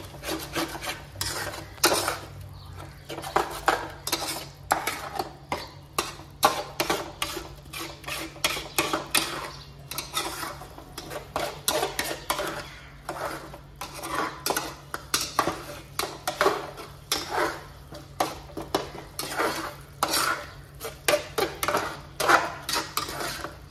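Egg masala with tomato paste being stirred in a pan, a steady run of scraping and clinking of a utensil against metal, rhythmic and close, with no talking.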